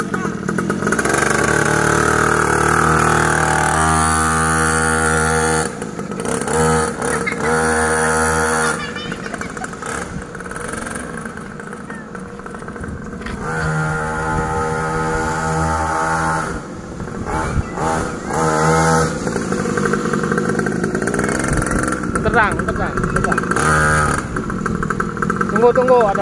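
A mini trail motorcycle engine runs and revs in steady harmonic bursts across the stretch, rising and falling as it is ridden, with people talking over it throughout.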